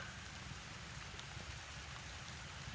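Faint, even patter of rain falling continuously, a quiet steady wash with occasional drop ticks.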